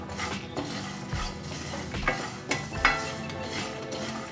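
Sesame seeds roast and get stirred in a pan, with a light sizzle under repeated scraping and knocking of a spoon against the metal, plus a few clinks, close and without speech.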